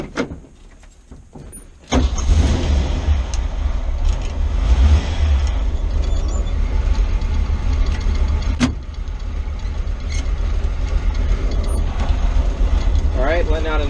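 A car engine with a manual transmission and a failing clutch throwout bearing starts up and settles into a steady, fairly loud idle with a gritty mechanical rumble, heard close by with some talking.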